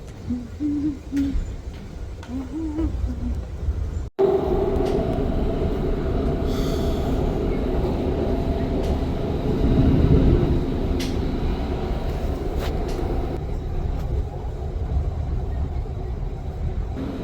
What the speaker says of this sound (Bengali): আমরা এখন মেট্রো রেলে আছি